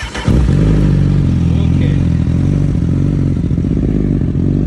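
A 2023 Honda CBR1000RR sport motorcycle engine catches after a brief crank and runs loud and close, a steady throaty rumble with slight clattering throughout.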